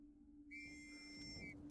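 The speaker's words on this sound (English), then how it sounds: "But when the whistle blew," Single sustained shrill whistle blast, about one second long, cutting in over a low hum as the signal for infantry to attack at the Battle of the Somme in the First World War.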